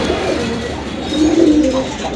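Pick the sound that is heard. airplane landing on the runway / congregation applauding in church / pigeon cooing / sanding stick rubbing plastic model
pigeon cooing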